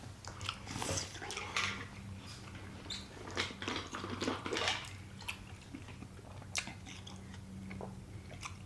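Close, soft biting and juicy chewing of fruit, with irregular crunchy bites and wet mastication sounds, quiet and without talk.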